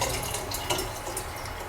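Steeped ginger tea being strained and poured into a jug of water in a cottage kitchen, a soft continuous trickle and splash, faint and close.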